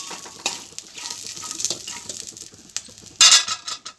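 Chillies frying in hot oil for coconut chutney, a soft sizzle under scattered scrapes and clinks of a spoon against the pan, with one louder clatter near the end.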